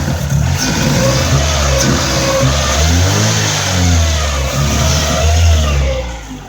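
A car engine revs up repeatedly in medium-pitched, rising and falling surges over a steady idle, close and loud throughout, while it runs on a fuel-injector cleaning setup.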